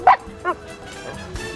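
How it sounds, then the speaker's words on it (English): Dogs on a film set bark and yip, two sharp close barks near the start followed by softer whimpering yelps and a faint bark later, over quiet background. "sometimes up to 80 dogs on the set at the same time"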